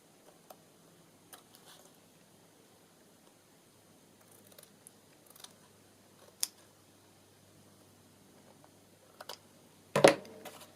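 Scissors snip sparsely while paper is trimmed for a ring-bound ballet journal: quiet isolated clicks and ticks spread across a hushed room, ending in one louder, sharper cut.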